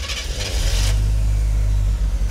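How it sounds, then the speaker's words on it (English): A car engine from a celebrity's collection fires up and settles into a loud, deep, bassy idle, with a brief higher burst at the start before the steady low rumble takes over. "The sound of this engine is warm. It's got that bass in it. It's deep, it's clean."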